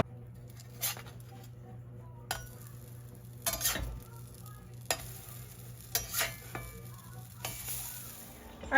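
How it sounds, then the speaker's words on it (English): A batch of pancakes fries in a pan, with a soft sizzle under intermittent scraping and clatter from a spatula and cookware, close and fairly quiet, with a low steady hum beneath. "I'm just going to go ahead and cook up this whole batch of pancakes for Miss Hagen"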